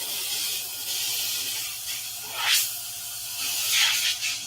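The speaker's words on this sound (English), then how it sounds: "It doesn't spray well, but it's clean anyway" A spray can that skips and sprays poorly gives a soft, steady hiss with two louder, sharper bursts of spray, close and alone with no talking.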